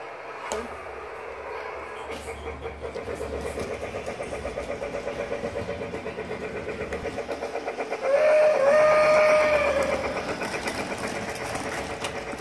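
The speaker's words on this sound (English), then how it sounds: "Oh no, the train derailed!" A train rumbles and chugs steadily in The Polar Express video game, then a whistle blows louder as it derails, with continuous engine and wheel noise throughout.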